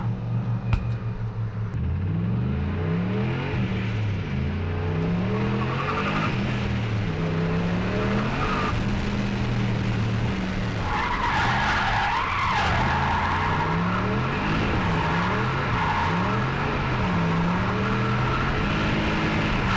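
A drift car at TurboShed, Teesside, drives continuously with the engine rising and falling through revs and tyres squealing loudly in long wavering screeches, close and dominating throughout with no talking.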